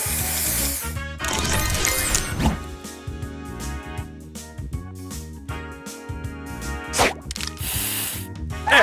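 Mobile puzzle game Match Masters plays its spray booster effect, a loud hissing spray burst over busy, constant game music with chimes and swooshes, a couple of bright bursts near the end.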